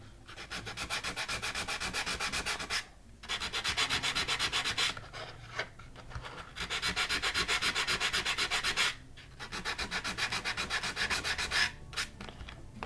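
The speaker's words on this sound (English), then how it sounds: "I am going to take some sandpaper and scuff up the areas just ahead of and behind the fins." Sandpaper scuffing the body of an Estes Vogel model rocket ahead of and behind the fins, close rhythmic back-and-forth strokes in several bursts separated by short pauses.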